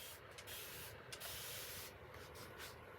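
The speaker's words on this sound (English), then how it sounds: "if you spray your surface first with water," Water spray bottle misting a textured acrylic abstract painting surface, a few quiet, short hissing bursts in a row, close by.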